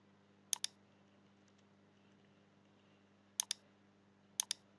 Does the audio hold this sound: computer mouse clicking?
yes